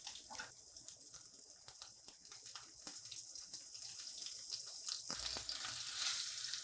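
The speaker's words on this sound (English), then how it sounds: "while my fish is searing off" Fish searing in hot oil with fresh thyme in a pan, giving a steady close sizzle and crackle throughout that grows louder and brighter toward the end, with no talking.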